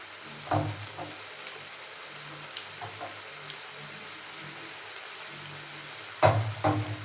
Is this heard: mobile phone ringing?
no